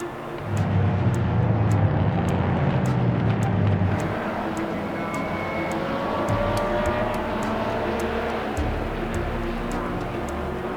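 Classic endurance race cars lapping Mugello circuit in a two-hour race, a loud continuous engine roar with rising and falling tones as cars pass, nearby and sustained throughout.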